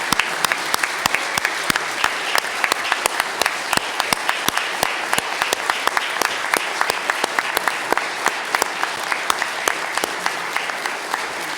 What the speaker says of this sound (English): So I think we need to give y'all a round of applause.